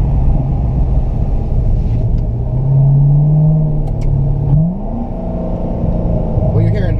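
Engine intake noise heard from inside a 2014 Chevrolet Corvette Stingray with the windows up: a loud, steady rumble that rises into a sustained drone mid-clip, dips, then climbs again as the revs build.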